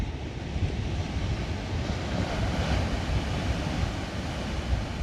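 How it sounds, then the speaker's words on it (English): Ocean waves rolling in along a beach on the way to Santa Cruz, a loud, continuous wash of surf with a gradual swell midway, mixed with wind rumble on the microphone. "Listen to the way the wave rolls in."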